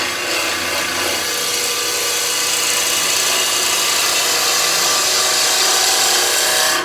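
Woodturning gouge cutting into wood spinning on a lathe, a loud steady continuous shearing rasp held for about seven seconds, heard alone without talk.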